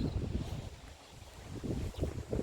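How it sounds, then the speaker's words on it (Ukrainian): Strong wind buffeting the microphone outdoors in a vegetable garden, in low, rumbling gusts that rise and fall over a couple of seconds. "Дуже вітри зараз сильні."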